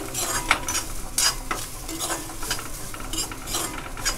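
Fresh grated coconut roasting in a pan for village-style chicken masala, a steady close sizzle broken by repeated scraping stirs of a spoon against the metal pan.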